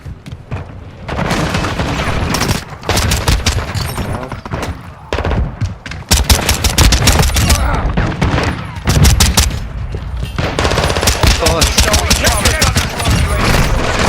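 SMG fire in a shooter video game, loud rapid bursts of close gunshots separated by short pauses, with booms and shouted game voice lines mixed in.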